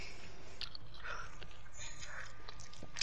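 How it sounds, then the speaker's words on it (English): Close chewing and biting, wet crunchy mouth sounds repeating in uneven bursts right at the microphone, over a steady background hum. "It sounds like food. Something chewing."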